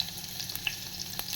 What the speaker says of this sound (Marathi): आणि आता आपण याच्यामध्ये फोडणीमध्ये घालतो आहे हा कांदा